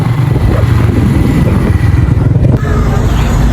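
A motorcycle rides through snowy weather in Faisalabad, its engine droning loudly and continuously up close with heavy wind rumble over the microphone.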